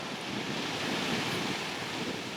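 Blizzard wind roars across Mount Baekdu in bitter cold near minus fifty degrees. It makes a dense, continuous rushing hiss at steady strength, with no voices.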